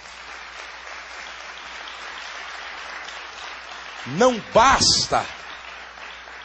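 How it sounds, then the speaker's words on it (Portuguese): Church congregation applauding, a steady soft wash of clapping in the background while someone speaks briefly over it toward the end. "Vamos aplaudir a atitude dessa moça?"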